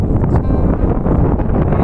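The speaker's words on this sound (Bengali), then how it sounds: "কি হাওয়া রে ভাই," Strong wind gusting across an open hilltop in the Ajodhya Hills of Purulia, a loud continuous roar buffeting the microphone, with no speech over it.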